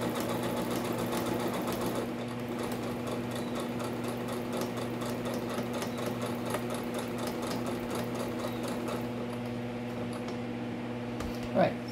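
A sewing machine driven by a foot pedal stitches along the edge of fabric, its steady rapid needle rhythm running continuously and close for most of the stretch, with a brief soft knock near the end.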